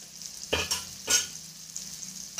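Surmai fish fries in a pan, giving a steady hissing sizzle with a few louder crackling bursts as it is stirred or turned, close by.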